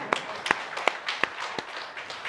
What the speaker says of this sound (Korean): 우리 젊은 집사님들 정말 대단하다고 박수 한번 쳐줘요.